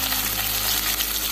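Small karandi shrimp dropped into a hot pan with reddened garlic, a loud, dense, continuous sizzle right up close.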